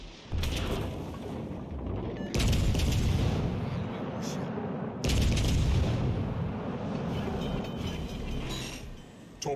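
The battleship New Mexico fires high-explosive shells in World of Warships Legends: three loud booming salvos a few seconds apart, each rolling into a long rumbling decay, while a voice talks underneath.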